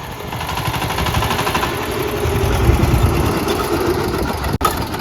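A VST tractor engine idling close by, a steady low rumbling chug with even rhythm throughout, fairly loud and without talk.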